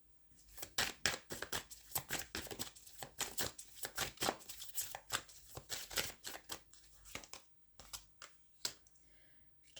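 Tarot cards being shuffled and drawn during a reading: a rapid run of crisp, close card riffles and snaps, dense at first and then thinning into a few separate flicks, with no talking.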